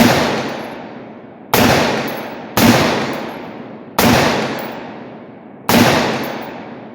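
Five loud, sharp rifle reports from an AR-style rifle with a 7.5 inch barrel fire at a range, spaced about a second apart, each with a long decaying echo and no talk.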